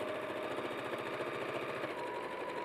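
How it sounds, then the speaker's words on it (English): A sewing machine fitted with a quarter-inch foot runs steadily, giving an even, continuous mechanical whir with fast regular stitching pulses and no pauses. "I have a 1/4 inch foot on my sewing machine."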